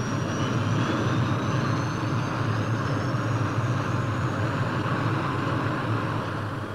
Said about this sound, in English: Engage rotors.